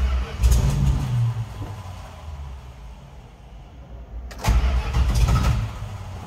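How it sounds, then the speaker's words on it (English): A 1976 Dodge Power Wagon 200 pickup with original miles, cranking and catching, then dropping to a rough idle before a second loud start-up burst, all close by with no talk. "Let's go ahead and start her up."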